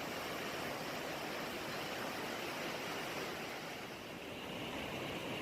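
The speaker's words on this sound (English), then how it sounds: "Oh, nice stream." A mountain stream on a Alpine hiking trail near Samoëns, a steady, dense rushing of water filling the whole clip at close range, broadband and unbroken, with no voices.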